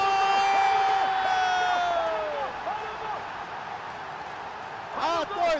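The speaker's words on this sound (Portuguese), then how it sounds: "A torcida vai à loucura." A stadium crowd roars after a goal in the FIFA 22 football video game, a loud sustained cheer that gradually settles, then swells again near the end while a commentator speaks over it.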